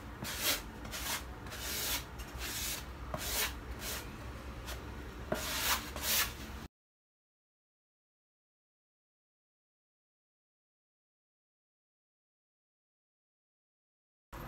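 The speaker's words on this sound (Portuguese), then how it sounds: "Já vem passando, dando acabamento em todo o isopor." A trowel spreads thin burnished cement finish across styrofoam, a close scraping rub in repeated strokes for several seconds before the sound cuts to silence.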